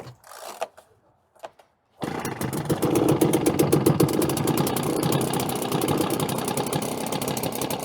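An Echo PB-265LN leaf blower cold-starts on choke with a few quick pull cranks, then catches and settles into a steady, loud two-stroke idle with a rough, rapidly pulsing rhythm close by.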